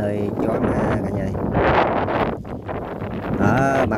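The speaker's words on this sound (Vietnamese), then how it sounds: "tại vì không có vách, gió quá trời gió" Strong gusts buffet an open, wall-less observation tower in U Minh Ha National Park, a loud roaring rush that swells and eases against the microphone, with a voice talking over it.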